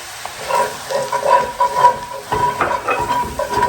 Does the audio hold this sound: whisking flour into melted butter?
yes